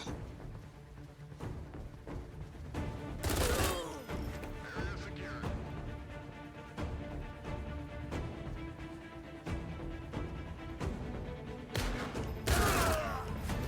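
Enemy gunfire in the video game No Plan B: scattered gunshots and bursts of fire throughout, with two louder volleys around three seconds and twelve seconds in, crackling over steady game noise.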